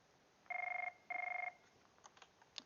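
A phone rings loudly close by, two short electronic trilled bursts in a quiet room, followed by faint clicks and taps.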